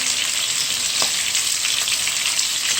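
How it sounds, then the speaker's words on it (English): Steady, loud sizzling of tilapia frying in hot oil, a continuous crackling hiss with a few small pops, no voices. "you hear that sizzle, and you see the bubbles going off"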